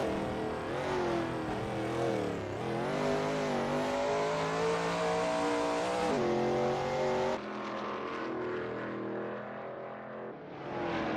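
A Shelby Mustang GT350R race car lapping Sebring in a racing video game, its engine droning loud and continuous at high revs, rising and dipping through gear changes, then easing off toward the end.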